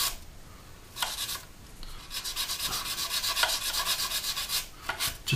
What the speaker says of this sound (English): we're just gonna sand in that wing root just over the top there